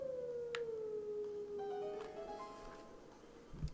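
A wolf howling in the video game Zelda: Twilight Princess, one long sustained tone sliding slowly down, joined later by softer layered notes, quiet and alone.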